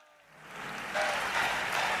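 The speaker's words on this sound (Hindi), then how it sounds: "अभी मजा नहीं आया आपकी तालियों में" Audience applause at a Hindi poetry gathering, clapping swelling quickly from quiet into a dense, steady burst that holds loud to the end.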